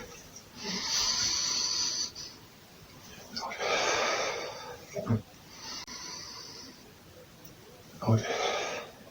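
Deep, slow breathing during a median plane training exercise: several long, hissing inhales and exhales, each lasting a couple of seconds, separated by brief pauses and heard close up.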